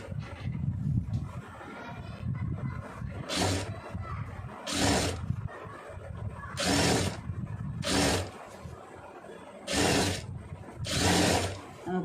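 A sewing machine stitching around the neckline of a blouse. It runs in about five loud, close bursts of mechanical whirring, with quieter pauses in between.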